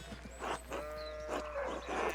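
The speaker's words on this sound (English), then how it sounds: "More sheep blocking the path." Sheep bleating in the video game Pentiment, a few wavering, drawn-out bleats in quick succession at moderate loudness, with no talking.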